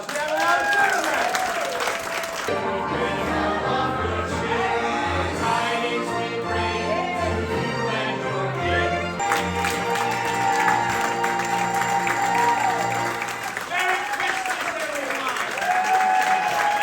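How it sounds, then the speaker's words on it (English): A group of people at a gathering on a snowy day breaks into sustained applause, with cheering and voices mixed in, and the clapping swells again partway through before tapering. "Give yourselves a round of applause."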